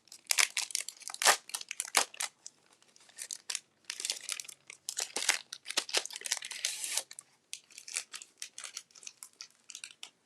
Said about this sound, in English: I'm going to grab a piece of the Fluid 100 watercolor paper.